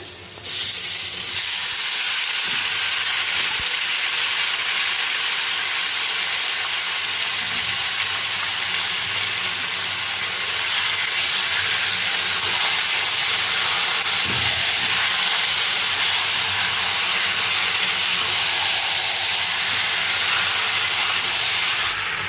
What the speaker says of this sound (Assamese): এতিয়া পিঁয়াজখিনি ধুনীয়াকৈ ভাজি লৈছোঁ অকণমান, আৰু মাংসটো দি দিম